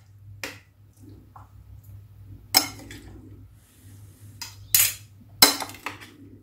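A low-carb salad is plated with cutlery on dishes, giving a few separate sharp clinks and scrapes spaced out over several seconds, close and clear against quiet.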